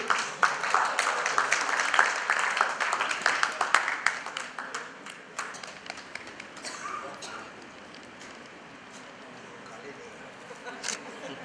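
Applause from a reunion audience at the Taj fills the room with a dense, lively patter. It swells early on and then thins and fades toward the end.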